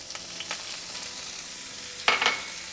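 Chopped onion and cilantro fry in hot oil with a steady close sizzle, and a louder burst of crackling and spattering comes near the end.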